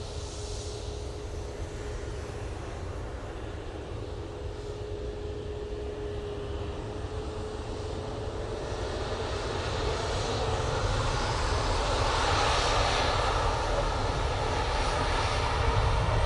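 Airbus A330 jet rolling along an airport taxiway, a steady broadband engine rumble with a faint sustained whine that grows gradually louder over the second half, heard without any talk.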